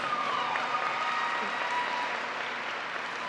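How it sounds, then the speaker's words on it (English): An audience at the DM Therrell High School 2018 graduation applauds in a sustained, even wash of clapping that fills a large hall, steady throughout with no speech over it. "Please join me in giving these individuals a round of applause."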